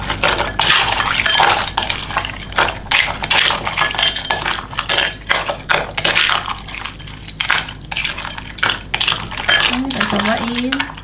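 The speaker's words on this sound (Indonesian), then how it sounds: "Aduk-aduk." A utensil scrapes and clinks steadily inside a bowl while mixing, a near, busy run of metallic taps and scrapes lasting throughout, with a brief voice near the end.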